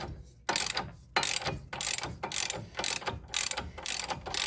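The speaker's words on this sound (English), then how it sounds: "I like to use ratchets and wrenches as much as possible" Ratchet wrench loosening bolts during a brake job on a 2008 PT Cruiser, a rapid repeated clicking of the pawl in several close, loud bursts separated by short pauses.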